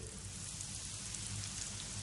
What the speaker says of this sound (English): the rain was worsening